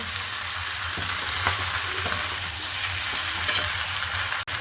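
Mixed winter vegetables, just salted, are stirred in a hot pan, giving a continuous, loud frying hiss with soft shuffling stirs underneath.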